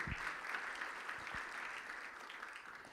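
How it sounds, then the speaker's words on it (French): Audience applause at a business forum on small and medium enterprise growth, a steady, moderately distant wash of clapping that holds evenly for the whole stretch, with a few low thumps near the start. "aïd Jebrani, directeur général de Temwilcom, sous vos applaudissements, mesdames et messieurs."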